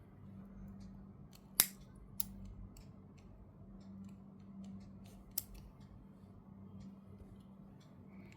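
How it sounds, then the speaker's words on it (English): Scissors snip yarn tails on a crocheted rose doll: a sharp close cut rings out near the start, followed by two smaller clicks a few seconds apart, all against a quiet room hum. "cut the extra yarn that's coming out"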